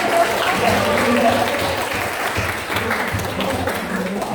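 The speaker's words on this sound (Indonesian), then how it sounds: "Oke, beri aplaus untuk kalian semua." Classroom applause for students, a steady round of clapping from a group in a room, with voices murmuring underneath and continuing throughout.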